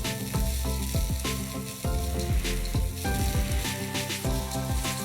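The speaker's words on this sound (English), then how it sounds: "I'm going to mix this together and roast them till the onions become nice and soft" Fresh coconut and three sliced onions roasting together in a pan, a loud continuous sizzle with repeated rhythmic scraping strokes of stirring running through the whole stretch.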